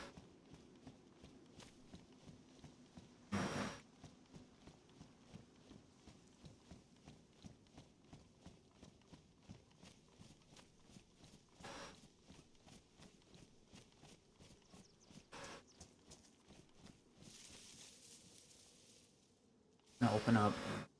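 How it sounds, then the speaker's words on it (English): Steady rhythmic clip-clop of horse hooves on the ground in DayZ, a regular walking gait heard close and fairly quiet throughout, broken by a few brief louder noises. "No, no one can ride this horse."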